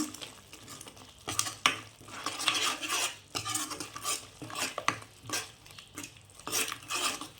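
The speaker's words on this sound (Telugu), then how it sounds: "చికెన్ మసాలా వేసి కొంచెం బాగా కలుపుకోవాలి" A spoon stirs chicken through masala in a pan, with repeated scraping, clinking metal-on-pan strokes and a soft sizzle in an uneven rhythm, fairly quiet and close.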